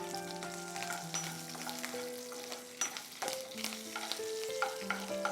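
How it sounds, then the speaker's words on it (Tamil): Curry leaves hit hot oil with popped mustard seeds and urad dal in a Tamil home-style tempering, a crackling sizzle with sharp pops and stirring scrapes, close and steady over a faint background hum. "நம்ம இதில் கருவேப்பிலை சேர்த்துக்கலாம்."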